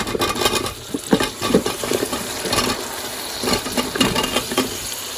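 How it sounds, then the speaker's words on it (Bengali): Flat beans tipped into a pan of well-fried spice paste for a fish curry with potato and tomato, giving a steady close sizzle broken by several clattering bursts of stirring and pan contact, with no talking. "এই যে এখন সিমগুলো দিয়ে দিই"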